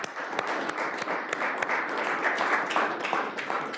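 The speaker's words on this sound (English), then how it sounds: "let's give him an applause for his presentation" An audience claps after a presentation on property rights in Ukraine, a dense, steady round of applause with sharp individual claps standing out, continuous from start to finish with no voices on top.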